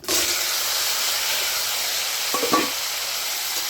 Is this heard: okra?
yes